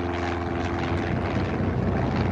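A Cessna light aircraft landing on Red Square in Moscow, its steady propeller engine drone loud and continuous, with no voices.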